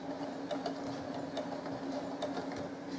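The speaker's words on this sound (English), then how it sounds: "you're going to continue sewing all along the top here" Sewing machine running steadily along the top seam of a recycled tote bag, a continuous mechanical whir with a faint hum and light ticking, close and alone without talk.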